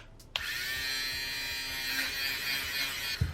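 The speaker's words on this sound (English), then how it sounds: "I think it's called like a sweater shaver" A Conair electric sweater shaver switches on with a click and buzzes steadily at close range as it removes fuzz from a sweater, its motor whine holding constant before a final click.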